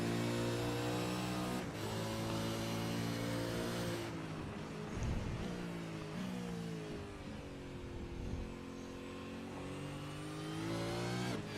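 An onboard V8 Supercar race car engine howls through a lap, revving high then dropping through gear changes and climbing again, loud and continuous with no voices.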